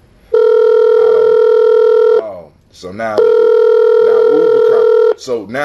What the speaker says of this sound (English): Uber Conference is ringing